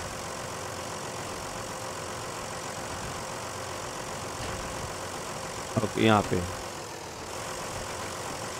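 A truck engine idles in the SnowRunner video game, a steady low rumble running throughout, with a brief spoken phrase over it partway through.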